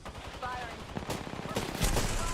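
Rapid bursts of gunfire from a sci-fi shooter video game, short clattering volleys mixed with a voice talking over the action.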